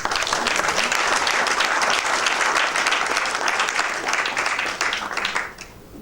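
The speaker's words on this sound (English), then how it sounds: "And they deserve a big round of applause." Sustained audience applause at a business chamber tour event, dense steady clapping filling the room for several seconds before tapering off at the end.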